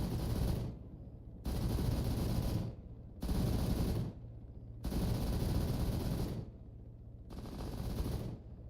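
Automatic gunfire from a soldier in the military shooter Arma 3, four or five sustained rapid bursts of firing separated by short pauses, heavy and fairly close.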